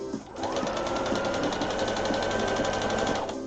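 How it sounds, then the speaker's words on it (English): A sewing machine basting fabric runs in one continuous fast stitching burst, close and steady, starting after a brief pause and stopping abruptly near the end, with no speech. "for the middle part, machine basting to the center front that I've already marked"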